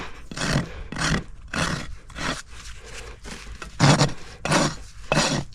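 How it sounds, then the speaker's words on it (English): A farrier's rasp files a horse hoof along the bevel at an angle, giving loud, close rhythmic scraping strokes, about ten rough rasps in steady succession. "coming in on this bevel, I'm doing my rasp at an angle here."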